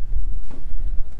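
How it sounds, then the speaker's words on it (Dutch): Strong wind buffets the microphone on the coast near the Texel lighthouse, making a steady, loud low rumble with gusty swells throughout. "Het is hier erg winderig."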